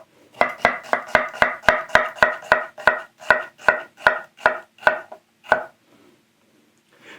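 A knife chops through the other half of an onion on a board, about fifteen crisp, evenly spaced strokes close up, slowing near the end before quiet.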